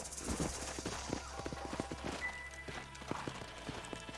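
Horses' hooves clip-clop in the Xbox 360 game Red Dead Redemption, a steady close trotting rhythm of hoofbeats with a faint neigh amid light background game ambience.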